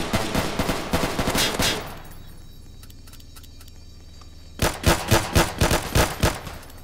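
Video game gunfire crackles in a rapid automatic burst, stops for a couple of seconds of near quiet, then resumes as a rhythmic run of loud, evenly spaced shots.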